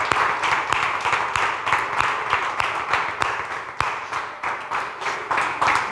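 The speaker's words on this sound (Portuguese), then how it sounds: "Podemos aplaudir as nossas mulheres" Congregation at a church celebration for International Women's Day clapping for the women, a steady bright patter of hands with sharper individual claps throughout, no talk over it.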